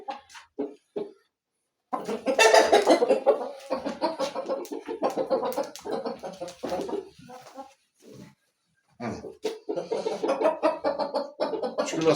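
Chickens and small chicks cluck and cheep close by in bursts with short pauses, a busy farmyard flock calling continuously.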